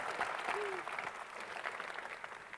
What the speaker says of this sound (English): So she needs some applause.